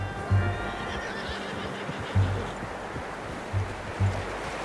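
A horse in Red Dead Redemption 2 neighs and snorts, with several low breathy snorts spaced about a second apart over a steady outdoor background.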